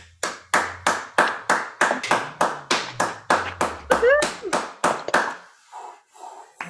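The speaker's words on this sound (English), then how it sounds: "If we all unmute ourselves and give everyone a round of applause," Online meeting participants clap together after unmuting, producing a loud, regular series of about fifteen sharp, close claps at a steady beat. The claps thin into a few softer, scattered ones at the end.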